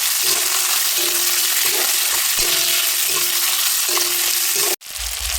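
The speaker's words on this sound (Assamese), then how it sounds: "বিলাহীখিনি এনেদৰে ভাজি ল'ম।" Tomatoes fry in hot oil in a pan with ginger-garlic paste, a loud steady sizzle broken by regular scraping stirs, close up and without talk, ending in a sudden cut and a brief quieter tail.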